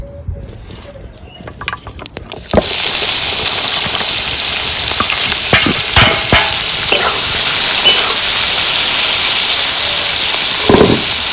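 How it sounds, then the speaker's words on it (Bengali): Chopped onions go into hot oil in a pan while a crab curry is cooked in a rural Bengali kitchen. A quiet start gives way to a loud, steady sizzle, broken by scattered clinks and stirring sounds. "আর একটু তেল দিয়ে দিচ্ছি কেটে রাখা পেঁয়াজগুলো দিয়ে দিচ্ছি"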